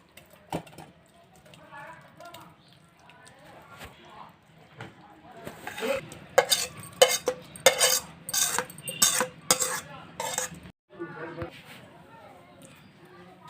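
Gunta ponganalu batter, mixed with soda, cooked chana dal and tempering, is stirred with a utensil, making scraping and clinking bursts that grow busiest midway, with a voice talking through it.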